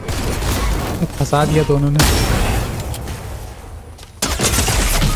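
Gunfire in the video game Fortnite, with dense rapid bursts and heavy booms that drop out abruptly and then resume, loud and close, while a player talks briefly over the shooting.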